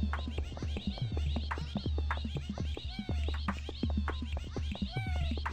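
Cartoonish cat meows in the horror video game Cat LSD, many short chirpy calls repeating rapidly over a steady low hum, fairly loud and busy with no talking.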